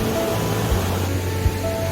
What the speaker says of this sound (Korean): 우렁찬 물소리를 들으며 망중안을 즐겨보기도 합니다